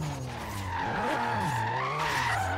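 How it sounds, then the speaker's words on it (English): Tires squeal continuously as a car drifts in the Forza Horizon 3 street-drifting game, a loud, steady wavering screech with shifting engine tones underneath. "And then we get the sound glitch."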